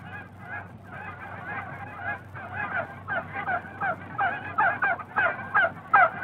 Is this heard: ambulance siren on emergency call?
no